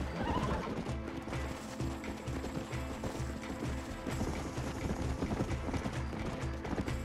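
Horse hooves in the Red Dead Redemption video game clip-clopping in a steady trotting rhythm, close and clear, with a whinny near the start and no talk over it.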